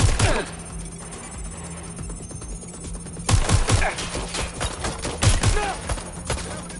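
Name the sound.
gunfire in a shootout in the video game Watch Dogs Legion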